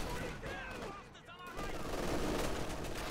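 A .50 cal machine gun fires in Company of Heroes 2 as a continuous rattling burst of rapid shots. The gunfire grows louder in the second half and sits among other battle noise.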